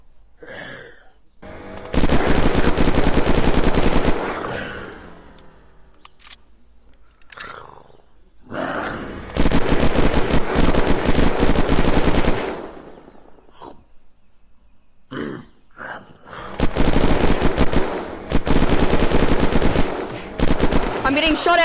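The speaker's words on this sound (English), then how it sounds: "Someone's shooting in safe zone" Bursts of automatic gunfire in the survival video game Unturned, loud, sustained volleys of rapid shots in three long stretches separated by short gaps with scattered single shots, a voice talking between them.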